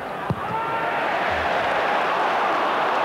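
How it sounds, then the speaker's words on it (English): Football crowd at Newcastle United's ground in 1996 applauding Newcastle player Steve Watson against Manchester United, a steady broad wash of stadium applause and murmur throughout, with a brief thump early on. "And that's Steve Watson again getting the applause."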